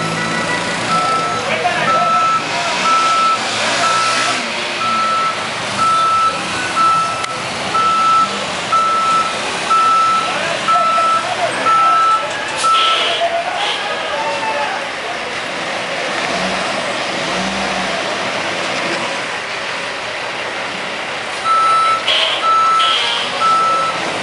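A tractor-trailer maneuvering through the narrow streets of Siloé, its reversing alarm beeping steadily at intervals over a loud, continuous engine rumble and street noise, with voices talking intermittently.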